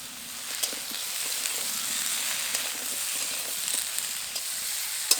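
Drumstick and Malabar spinach stems with salt and turmeric sauté in a pan, a steady close sizzle with light periodic stirring clicks from the spatula, no talking.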